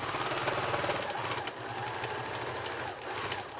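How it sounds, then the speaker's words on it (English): A sewing machine runs steadily and close while stitching a nine patch quilt, its needle rattling in a fast, even rhythm with brief slowdowns when it pauses to pivot. "I'm going to start just past the first seam and back stitch. Go straight into the corner."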